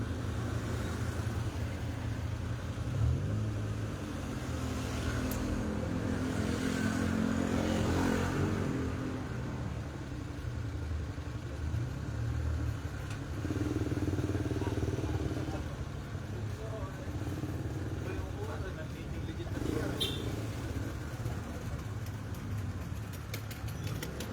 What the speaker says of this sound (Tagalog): Ganyan ka-traffic dito mga kawapo.